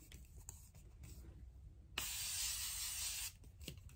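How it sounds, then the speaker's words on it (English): A single burst of setting spray misted onto a face, a bright hissing spritz lasting just over a second, close and clear against a quiet room with faint handling rustles before and after. "the last thing we're gonna do, guys, is spray our face."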